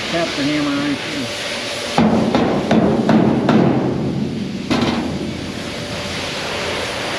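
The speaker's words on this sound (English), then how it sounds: "Tap the hammer right here." Several sharp metallic taps from a hammer on a livestock trailer ring out in quick succession over a steady engine-like drone, with one more tap a moment later.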